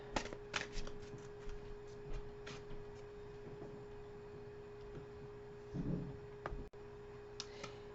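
Oracle cards being shuffled and pulled from a deck, a run of light papery riffles and taps close by, with a brief rustle near the end and a faint steady hum underneath.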